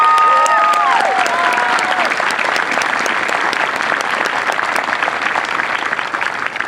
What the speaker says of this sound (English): Please give another round of applause to our newest NCI.